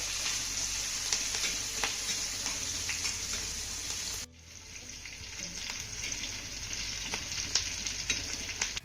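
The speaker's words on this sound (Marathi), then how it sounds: "आता ही फोडणी ना आपल्याला अर्धा मिनिट चांगली परतून घ्यायची आहे." Steady, gentle sizzling of tempering spices frying in hot oil, with faint crackles and a brief dip in the hiss partway through.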